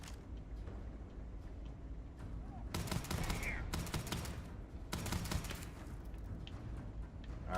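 Video game gunfire in Starfield: several bursts of rapid shots, loud and close, separated by short pauses, over a steady background.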